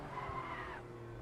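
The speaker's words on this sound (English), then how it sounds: "The car might be a little too loud" A car skids with tire squeal in the Assetto Corsa sim racing game, giving a brief close screech over a steady engine drone before fading.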